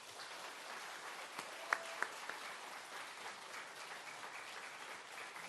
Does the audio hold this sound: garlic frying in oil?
no